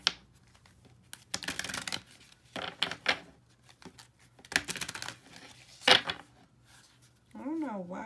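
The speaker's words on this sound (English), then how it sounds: "I don't know why I keep shuffling these cards." A deck of playing cards is shuffled by hand in quick, crisp riffling bursts scattered across the clip, close and fairly quiet, with a person speaking in between.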